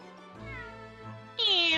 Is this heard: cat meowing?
yes